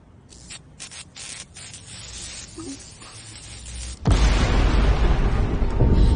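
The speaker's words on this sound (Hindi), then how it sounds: "सब ठीक है, बस ट्रांसफार्मर फटा है।" An electrical transformer bursts with a sudden loud, broadband roar about four seconds in, following quieter rustling and scattered noises, and the harsh crackling blast continues undiminished to the end.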